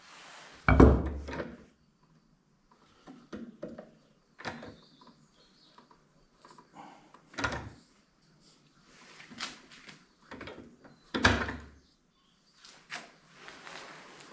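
A hammer drives a socket against a stuck, crusty part on an AS-55 B1/4T professional mower with a Briggs engine, giving sharp, close metallic knocks spaced several seconds apart with quieter rustling between them.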